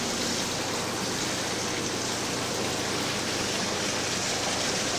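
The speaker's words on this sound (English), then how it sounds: "it's raining at the moment." Steady, dense rainfall inside the indoor rainforest at Biosphere 2, with a constant hissing wash of drops, even and unbroken throughout, like heavy rain pouring down nearby.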